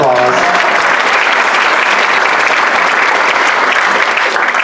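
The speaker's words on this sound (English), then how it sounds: "Please give them a round of applause" An audience claps steadily at a storytelling slam event, honoring volunteers; dense, sustained applause fills the whole stretch at close, even loudness, with a brief trailing voice near the start.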